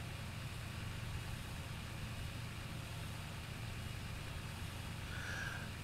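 Tractor engine idling in the Farming Simulator 17 video game, a steady low rumbling drone that holds constant and fairly quiet with no other sounds.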